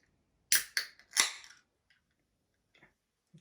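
A bottle of Burley Oak x Drekker boysenberry, blackberry and black currant craft beer cracked open: three sharp, close hissing pops in quick succession, each fading fast, then near silence with a couple of faint ticks.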